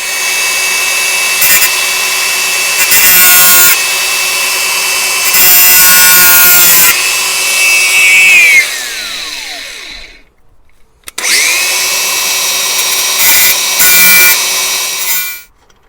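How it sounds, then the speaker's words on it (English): Angle grinder cutting steel bolts during a brake kit install on a Ford Fiesta Mk8.5 ST, a loud, close, high-pitched whine in pulsing passes that spins down, stops, then starts again. "then I can cut them properly then with the grinder"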